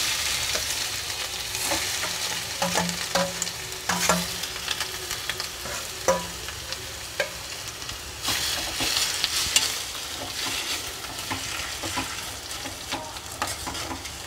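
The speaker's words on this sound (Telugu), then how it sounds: "బాగా ఫ్రై అయ్యే వరకు వేయించుకోవాలి ఇది బాగా వేగే వరకు ఉంచుకోవాలి" Grated pumpkin frying in ghee for halwa, a continuous close sizzle with scattered scrapes and taps of a spoon stirring through it, steady in loudness throughout.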